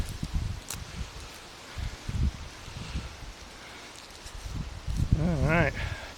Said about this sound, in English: Just going to open up the packet here. Good old-fashioned teeth.